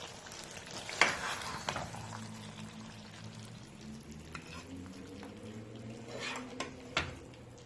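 Cooked bottle gourd greens with pumpkin bori are scraped and spooned from a pan into a serving dish, with soft scraping, a few clinks and a faint lingering sizzle, quiet and close, no talk.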